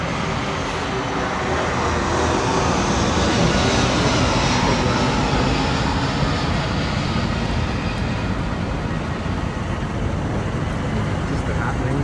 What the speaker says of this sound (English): So can you hear the aeroplane coming overhead where I'm staying?